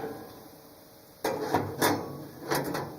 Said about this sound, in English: So we put the burner cover over, put our flavor trays or fuel trays on top